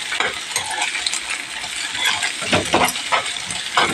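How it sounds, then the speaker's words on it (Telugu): Onions stirred and tossed in a hot pan with a spatula, giving scraping clinks and soft sizzling in uneven bursts, close up and moderately loud, with no voices. "ఉల్లిపాయలు వేసుకొని ఆ ఉల్లిపాయలు మొత్తం ఇట్లా కలిసేలాగా కలుపుకోవాలి"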